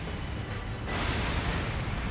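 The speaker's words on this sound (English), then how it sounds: "There's the explosion." An explosion in the video game Elden Ring gives a low, rolling roar that swells suddenly partway through and holds as a dense, sustained rumble, fairly quiet overall.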